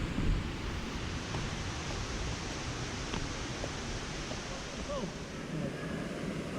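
The three-tiered Wei Sawdong waterfall in Cherrapunji, Meghalaya, pours as a steady, dense rushing roar, even and unbroken throughout, with no voices over it.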